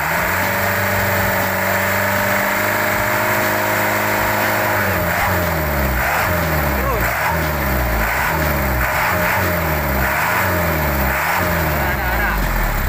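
Cold diesel engine idling, then revved repeatedly under throttle, pitch rising and falling in steady pulses, loud and close, with people talking over it.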